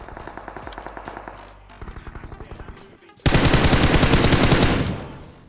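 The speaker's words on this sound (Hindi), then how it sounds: "अब यहाँ सामने एक बंदा जिसके ऊपर फायर करता हूँ" Automatic gunfire in the BGMI battle royale mobile game, with rapid, evenly spaced bursts of shots followed by a louder, sustained volley, close and punchy.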